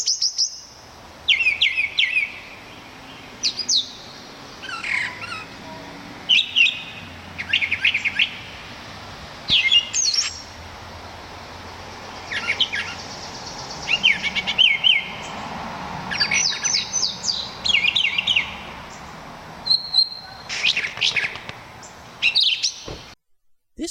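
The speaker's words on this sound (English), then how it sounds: "The brown thrasher sounds like a mockingbird with a sore throat." A brown thrasher sings a long series of varied, husky phrases, often in short bursts, separated by brief pauses. The bird is fairly close and clear over a quiet outdoor background.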